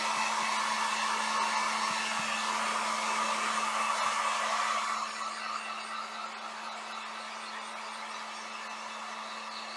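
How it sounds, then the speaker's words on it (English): A heat gun blows steadily while drying paint on a T-shirt stencil, a loud continuous whooshing roar with a constant hum that drops slightly in level halfway through and keeps running alone. "I'm going to go ahead and dry it with my heat gun."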